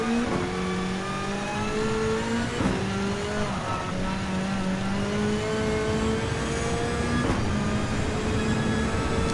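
A race car engine in Gran Turismo 7 revs hard and continuously, climbing in pitch through the gears with brief drops at each shift, loud and close with no voices.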